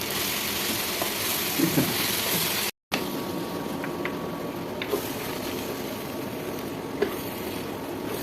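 Okra and egg poriyal sizzling and frying in a pan, a loud continuous crackling hiss with occasional stirring scrapes and clicks, cut by a brief silent gap.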